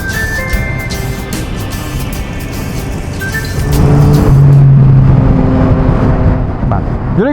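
A nearby vehicle with a loud aftermarket exhaust revs, its rough engine roar swelling in the middle and lingering, heard over a busy background with people talking.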